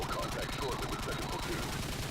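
Rapid automatic gunfire in Call of Duty 4: Modern Warfare, firing at a cheated, very fast rate, a dense continuous rattle of shots heard under commentary.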